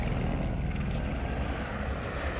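An aircraft engine roars overhead, continuous and loud, with a thrumming rotor-like beat filling the whole moment.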